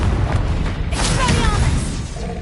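Confringo spell blast in the Hogwarts Legacy video game, a loud, low booming burst amid continuous game noise, with a voice briefly heard.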